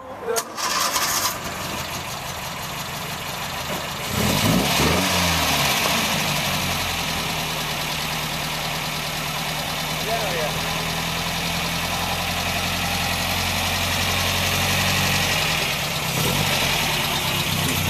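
An engine starts up and settles into a steady, throaty idle through the exhaust, with people talking faintly beneath the continuous rumble.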